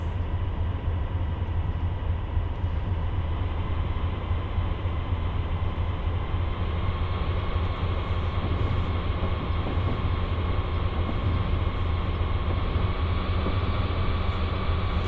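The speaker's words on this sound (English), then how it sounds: "So, stopping the train now." A train in a simulator video game pulling into a long platform at Fort Lauderdale and stopping, giving a steady, loud, continuous rumble and hiss of rail running noise with no talk.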